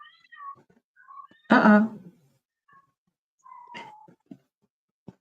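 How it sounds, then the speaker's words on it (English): A pet cat meows several times indoors, with one loud drawn-out cry and shorter mews around it, while a person speaks briefly nearby. "That's a cat."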